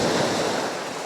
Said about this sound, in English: we got some lovely high kicking waves